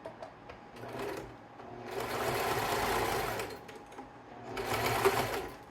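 A sewing machine stitches fabric in two short bursts of rapid mechanical whirring separated by a brief pause, fairly close and fairly quiet, with no talking.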